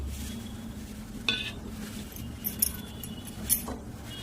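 A spoon stirring salt, sugar, turmeric, cumin and spices in a pot, a few light metallic clinks and scrapes spaced over a quiet kitchen background, without speech.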